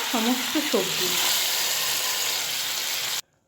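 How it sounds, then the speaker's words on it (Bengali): Panch phoron spices frying in hot oil for a bitter gourd dish, a loud steady crackling sizzle that cuts off abruptly at the end, with a brief voice near the start. "এবারে ফোড়নটা ভাজতে দেব। ফোড়নটা ভাজা হয়ে গেলে দিয়ে দিচ্ছি ভেজে রাখা উচ্ছেগুলো।"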